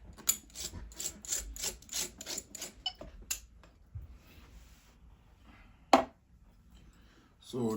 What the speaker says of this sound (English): As I'm still cleaning up the palette because I still have some leftover color from the previous painting I did.